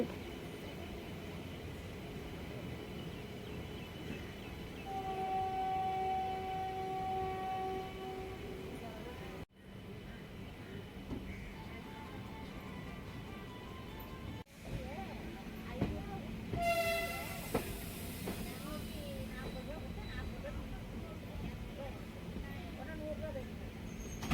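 A train reverses steadily after a locomotive change, rumbling along with a loud horn blast partway through, metallic clanks and brief squeals over continuous rolling noise.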